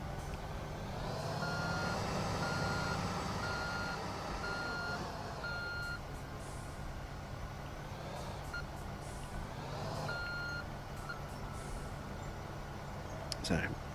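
A dump truck in the Construction Simulator 2 video game backs up with a steady train of electronic reversing beeps over a low engine drone, and someone talks over it.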